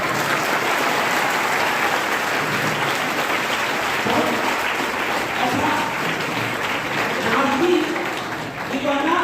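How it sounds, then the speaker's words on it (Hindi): Loud audience applause fills a hall at a school program on the Quran and science, a thick continuous roar of clapping with voices and a few speech-like sounds mixed in underneath. "जोरदार तालियां।"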